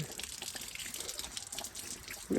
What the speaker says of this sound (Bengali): এখান থেকে জল পড়তেছে।